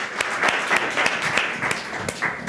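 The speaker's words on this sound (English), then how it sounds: "Let's give them a round of applause." Applause from a conference audience at a maritime event pitch session, a steady patter of clapping lasting a couple of seconds, moderately near with distinct sharp claps standing out.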